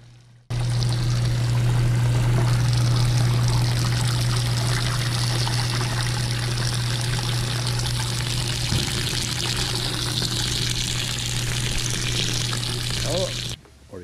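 Water pours steadily from a hose during a car wash, a continuous close rushing spray that runs almost the whole time and then cuts off at the end.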